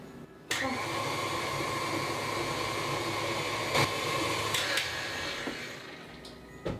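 An electric mixer whirs steadily through butter-based oatmeal triple chocolate cookie dough, a continuous close motor drone with a brief pause near the start and slight variations as the beaters work.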